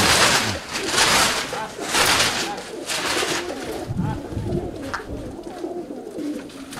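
A flock of pigeons takes off together in a series of wing-flapping bursts, some loud and close, with cooing and people talking nearby.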